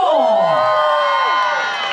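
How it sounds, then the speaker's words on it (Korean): An outdoor street-performance crowd on a car-free street in winter cheers and whoops loudly, with excited shouts and a voice rising and falling over the noise, sustained throughout. "박수 좀 크게 주셔야죠."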